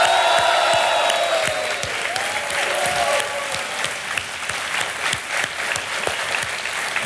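A studio audience on a televised quiz show applauds warmly for several seconds, with crisp individual claps over a steady wash of clapping and faint music tones behind it.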